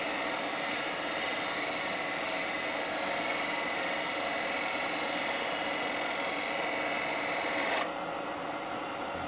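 A turning tool cuts an iroko wood bowl on a lathe, giving a loud, continuous rasping hiss that runs unbroken and then changes tone abruptly near the end.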